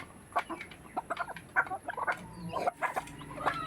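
Farm chickens cluck close by in a busy, overlapping chorus of short, irregular calls, with some birds louder than others and a faint background hum.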